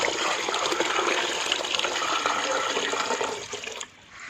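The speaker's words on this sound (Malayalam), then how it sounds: "പത്ത് ലിറ്റർ വെള്ളം ഇതിനകത്ത് ആഡ് ചെയ്യുക" About ten litres of water pour into a container for homemade dishwashing liquid, a loud, steady continuous rush that then tapers off and drops away near the end.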